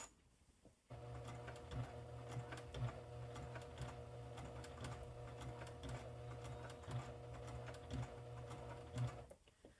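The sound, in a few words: sewing machine stitching along fabric edge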